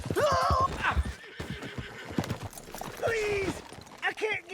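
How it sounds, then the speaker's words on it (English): In the Red Dead Redemption 2 video game, a horse whinnies in rising, wavering calls, with clip-clopping hooves in between. Voices shout over and around the animal sounds at close range. "Hey, that's my horse! Just borrowing it."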